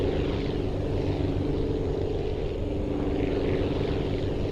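Steady drone of a bush plane's propeller engine in the Aviassembly flight game, a continuous, even hum that stays at one level throughout with no breaks.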